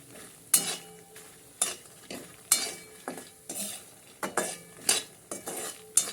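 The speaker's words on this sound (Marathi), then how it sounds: "मखाने रोस्ट होत आहेत म्हणजे थोडेसे त्याला क्रंचीनेस यायला पाहिजे. हां भाजून घ्या, तुपात थोडेसे भाजून घ्या." Fox nuts (makhana) roasting in ghee in a pan, stirred with a spoon: a run of clinking, scraping strokes at an uneven rhythm over a faint sizzle, close and fairly quiet, with no talking.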